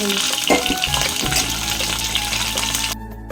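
Potato pieces fry in hot oil with a constant close sizzle and bubbling, a stirring clatter early on, cutting off abruptly near the end.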